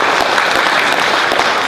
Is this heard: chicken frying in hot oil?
no